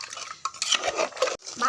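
Beef curry with jackfruit seeds stirred in a pan, close scraping and clinking of a utensil against metal in short bursts.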